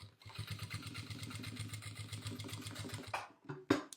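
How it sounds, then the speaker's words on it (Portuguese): A sewing machine stitches the lining of a toiletry bag, a steady rapid mechanical chatter of needle strokes running for about three seconds before stopping, followed by a couple of short clunks, close and clear. "Vou rebater aqui a costura, fazer a costura para prender esse forro"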